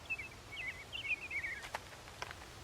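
Cartoon birds chirping in short, rapid, high warbling trills, followed by a few quick clicky chirps, light and fairly close over a quiet background without talk.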